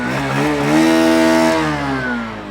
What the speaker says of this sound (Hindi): आइडियल कंडीशन पर इंजन साउंड सुनिए, एग्जॉस्ट नोट सुनिए। अब मैं थ्रॉटल देता हूँ